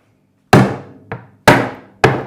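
Four sharp, loud hammer blows, close by and irregularly spaced, pressing a fitting into a fuel can, each ringing briefly before fading into silence.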